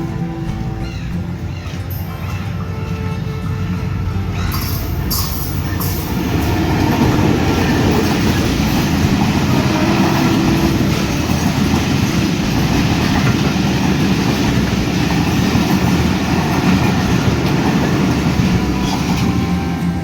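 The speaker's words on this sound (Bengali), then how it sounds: "আপনারা দেখছেন পরন্ত বিকেলে বাংলাবান্ধা এক্সপ্রেস তিলেকপুর রেল স্টেশনের 2 নম্বর লাইন দিয়ে প্রবেশ করছে।" A Banglabandha Express train hauled by an American-built locomotive rolls into Tilakpur railway station on line 2 in the late afternoon, its loud rumble and wheel clatter building and holding close for twenty seconds.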